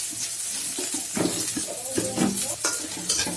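Garlic fries in hot oil as a tempering step for a chicken kala bhuna, with continuous sizzling close by. Scrapes of a spatula against the pan come through as irregular clatters.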